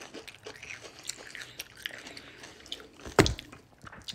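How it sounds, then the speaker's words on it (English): Quiet wet mouth sounds, then a single sharp crunchy bite into pickled garlic near the end, close and distinct. "Oh, that's crunchy garlic."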